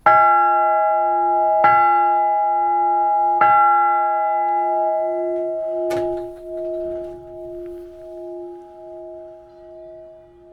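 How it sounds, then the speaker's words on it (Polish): An old bronze church bell strikes three times in steady succession, then once more, each deep ring humming and slowly fading in a long resonant decay. "A posłuchajcie, jak pięknie ten dzwon brzmi, jak wybrzmiewa."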